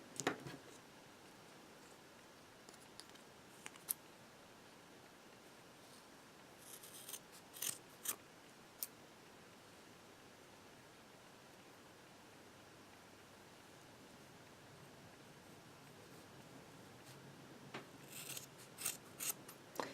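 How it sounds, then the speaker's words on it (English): Faint, sparse snips of scissors cutting thread ends at a few moments, separated by long quiet stretches with low background hiss. "grab your scissors and carefully snip both ends"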